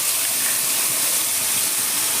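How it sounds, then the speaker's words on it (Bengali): Fine spice paste hits hot tempered oil for a sweet and sour mango curry with pakal fish, giving a loud, steady, close sizzling hiss that fills the whole moment. "এই সময় আমি যে মিহি পেস্টটা বানিয়ে রেখেছিলাম সেই পেস্টের মধ্যে দিয়ে দেবো তেলের মধ্যে।"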